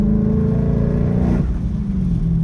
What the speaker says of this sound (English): It makes some very stereotypical turbo noises you may hear. Is that flutter?